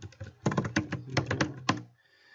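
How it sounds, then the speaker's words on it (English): Fingers type a short run of keystrokes on a computer keyboard while names are entered into karaoke DJ software, a quick close burst of clicky taps lasting under two seconds, then quiet. "Just type in a couple names here."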